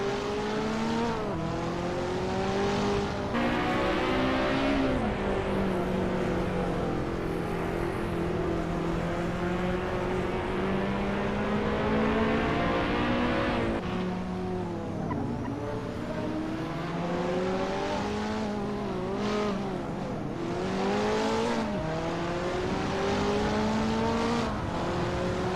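Race cars in the Hot Wheels Unleashed video game roar continuously at full throttle, engine pitch sweeping up and down through gear changes and turns, loud and close throughout with no talking.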